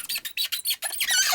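An LJN Video Art joystick squeaks as it is pressed down and rocked around, a quick run of shrill, high-pitched squeals in short bursts, close and fairly loud, ending in a sustained squeak.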